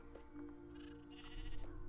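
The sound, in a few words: sheep bleating in Minecraft video game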